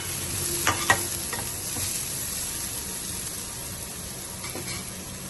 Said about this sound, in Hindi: बस हल्का सा हमने इसको फ्राई करना है।